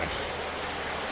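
A brief stretch of heavy, constant rainfall in the video game Rainswept, a thick hissing wash with a faint low rumble beneath it.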